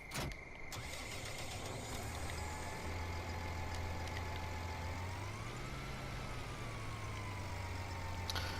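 Tractor engine in the Farming Simulator 19 video game, a steady low drone whose pitch rises briefly as it revs and then settles back, running continuously at moderate level with no talk.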